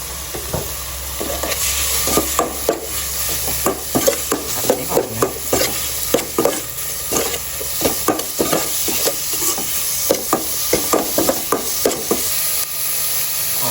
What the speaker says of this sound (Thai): เดี๋ยวเราจะเอาเครื่องนะครับ ลงไปผัด ในหม้อนะครับ